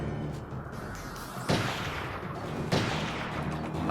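Gunfire from a car-mounted cannon in the video game Chrome: dense, continuous booming fire with two sharper, louder blasts standing out.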